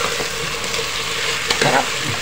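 Pork adobo sizzles steadily in a hot pan, a loud continuous frying hiss with a short stirring scrape near the end.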